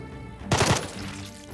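A gunshot in the tactical game Jagged Alliance 3 fires once, loud and close, after a brief quiet moment. A short rattling tail follows, then a low rumble of ambience.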